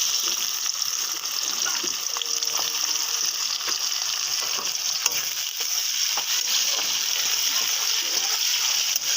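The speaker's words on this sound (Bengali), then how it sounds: "তেলটা গরম হয়ে গেলো দিয়ে দিলাম তেজপাতা আর একটু রসুন পেঁয়াজ" Bay leaf, garlic and onion frying in hot oil in a wok for a village-style chicken curry, a steady close hiss and crackle of sizzling with faint stirring, no talking.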